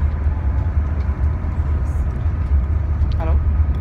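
Steady low rumble of a moving train to Stockholm heard from the carriage floor, continuous and droning, with a brief voice near the end.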